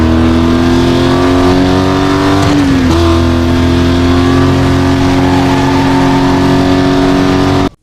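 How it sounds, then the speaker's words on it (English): Aston Martin DB9 with the stock engine in the racing game Need for Speed Most Wanted holds a loud, steady high-rev drone with one brief shift dip partway through, cutting off abruptly at the end. "engine sound of Aston Martin DB9. Need for Speed Most Wanted."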